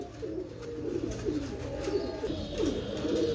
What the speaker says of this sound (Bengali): একজোড়া পাকিস্তানি চুহা কবুতর মাশাল্লাহ